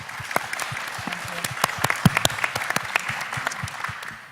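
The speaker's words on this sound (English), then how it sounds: "Let's give them a big round of applause." A modest audience at a breakfast panel event gives a short, lively round of applause, with distinct close claps over a softer crowd wash that keeps an even pace for a few seconds.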